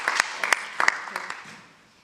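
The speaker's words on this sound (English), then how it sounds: "Can you please stand up so we can give you a round of applause?" Applause from an audience at a public meeting on climate change and cities, greeting guests asked to stand; a short burst of scattered clapping with a few sharper claps that thins out and fades within about two seconds.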